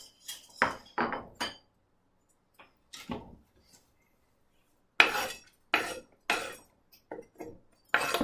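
Knife chopping ingredients on a cutting board while preparing a lemon herb salmon dinner: sharp, close thuds in short irregular bursts of two or three strokes separated by brief silences.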